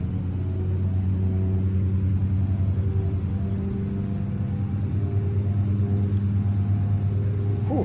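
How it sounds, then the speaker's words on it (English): Piston propeller engines of a PA31 in a flight simulator drone steadily with a deep, even rumble and low harmonic hum, loud and continuous throughout without speech. "I love these old prop sounds"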